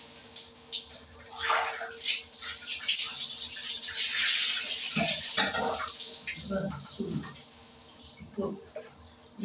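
Running water splashes while a dog is bathed, a steady rushing flow with intermittent splashing, close and fairly loud, with a person talking over it.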